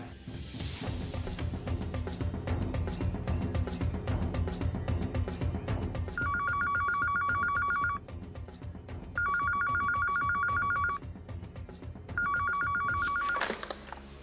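A telephone rings in repeated electronic bursts over loud rhythmic background music, the ring pattern pausing and resuming three times.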